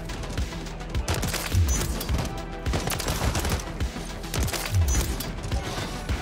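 Pistol fire in a shooter video game comes as rapid, loud bursts of shots, with dense clusters of reports and deeper booms repeating across the whole stretch.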